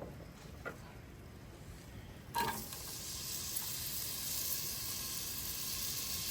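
Chopped onions sautéing in oil in a pan, a steady broadband sizzle that jumps louder partway through as they hit the hot oil, then holds at a constant hiss, close and alone.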